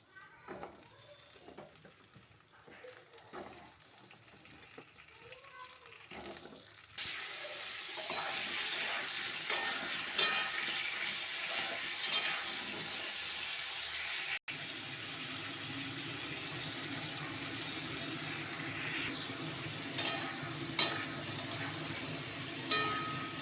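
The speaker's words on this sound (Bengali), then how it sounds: "পটলগুলো দিয়ে দিলাম একে একে ভাজতে।" Pointed gourd (potol) pieces dropped one by one into hot oil in a wok for a vegetarian Bengali curry, quiet clinks and handling giving way to a loud steady sizzle with occasional pops and crackles.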